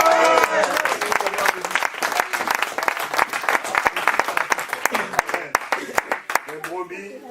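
A church congregation claps loudly in sharp, rhythmic bursts, praising the Lord, with voices calling out over the clapping. Near the end the clapping drops away as speech takes over.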